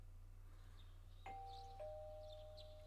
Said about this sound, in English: Your doorbell ringing. Someone seems to be at the door.